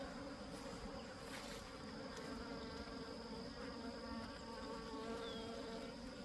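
A honeybee colony in a three-frame mating nuc, agitated during a swap to drawn comb, fills the air with a dense, steady, close buzzing and occasional individual bees whining past.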